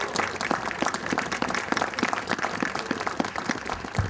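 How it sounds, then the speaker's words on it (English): An audience at a gateway rededication ceremony claps for several seconds, a moderate, evenly sustained patter of many hands heard from a little distance. "please give Zoe a nice round of applause."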